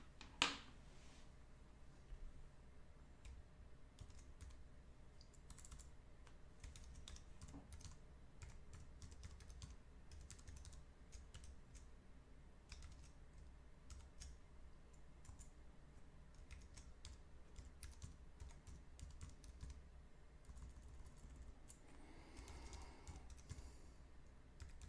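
Quiet, continuous tapping on a computer keyboard as a password is entered, irregular soft keystrokes over a low room hum for the whole stretch.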